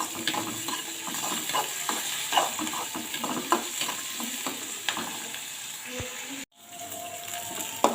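Tomatoes are stirred and sautéed in a frying pan while cooking a curry, with steady sizzling and repeated scraping of the spoon against the pan. The sound is close and continuous, with a brief drop near the end.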